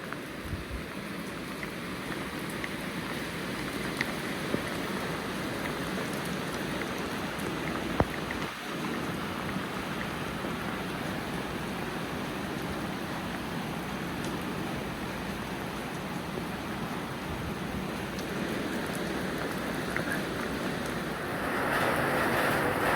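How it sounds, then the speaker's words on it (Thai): Steady rain pours down continuously, a dense, even hiss of drops on surfaces, with a brief low rumble partway through. "นอนฟังเสียงฝนกับบรรยากาศดีๆจ้ะ"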